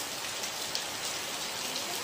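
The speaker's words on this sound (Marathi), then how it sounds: "पाऊस पण फिट लागला आहे," Heavy rain pours down steadily, an even, unbroken wash of falling water, moderately loud and close, with no voices.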